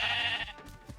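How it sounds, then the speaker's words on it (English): A sheep in Minecraft lets out a loud, bright bleat up close, followed by a few softer, choppier sounds as it trails off. "Oh, poor sheep."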